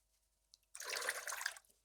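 A shaving brush is dunked into water, a brief close splash and burble of water lasting under a second after a small tap.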